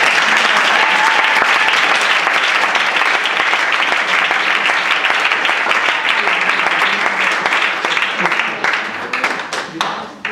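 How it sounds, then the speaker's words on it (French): Sustained, loud applause from a congregation during a church lesson on Jesus Christ, dense clapping filling the room for about ten seconds before thinning out at the end. "Est-ce qu'on peut applaudir pour ça?"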